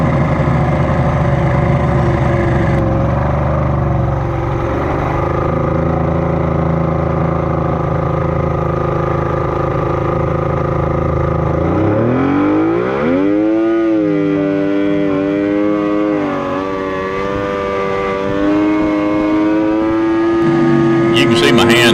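Engine of a small boat running steadily on a first ride, a continuous loud drone that rises in pitch about halfway through as the throttle opens, then holds at a higher whine.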